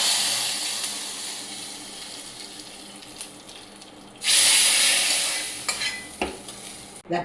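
Mustard seeds and chilies crackle in hot coconut oil for a tempering, a soft steady sizzle that bursts into a loud, bright spluttering hiss partway through before easing off, with no speech.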